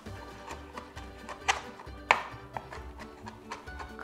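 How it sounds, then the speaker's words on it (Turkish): Several sharp knife taps on a cutting board as capers are finely chopped, irregular and fairly close, with a couple of louder chops standing out over faint background noise. "Kaparileri de incecik doğrayacağım yine."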